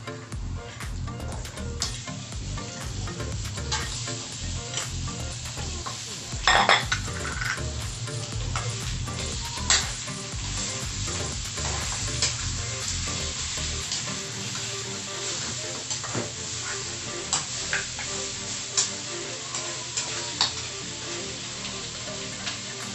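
Pork ribs sizzling in a pan for a pork kaldereta-style dish, a loud, continuous hiss scattered with sharp pops and crackles that runs on without talk.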